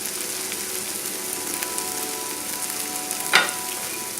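Shrimps and tilapia frying in a pan over a high flame, a steady close-up sizzle throughout with one brief louder crackling burst near the end, no talking.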